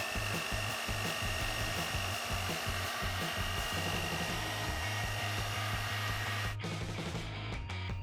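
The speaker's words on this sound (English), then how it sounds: "A mixer is a great replacement for a brush." An electric mixer whirs continuously as it beats paint, a steady loud buzzing with a rhythmic chopping texture, then cuts off abruptly near the end, leaving a brief quieter tail.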